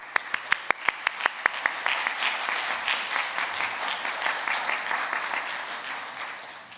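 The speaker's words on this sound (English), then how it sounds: "Let's give Alex a round of applause." Audience at a primary school's final assembly applauding: several sharp claps open, then a steady, dense round of clapping that holds at an even level to the end, with no voices over it.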